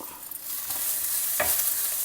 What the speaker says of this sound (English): Stir fry that also.